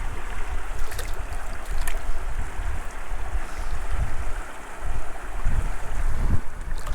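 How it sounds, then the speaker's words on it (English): Gusty wind at a mountain creek buffets the microphone in a steady broadband rush with stronger swells and a few brief clicks, no voices. "the wind is coming right in my face"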